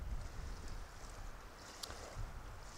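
Steady onshore wind on a lake shore rushes and buffets the microphone, with a broad low rumble and faint background hiss throughout.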